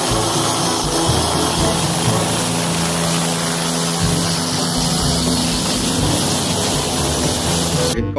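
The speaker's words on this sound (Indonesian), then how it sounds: "Helikopter." Steady, loud helicopter rotor and engine drone fills the scene continuously from start to end, with no voices over it.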